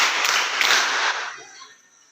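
A group claps together during a led clapping game, a dense burst of many hands that holds steady for about a second before fading away; no voices stand out.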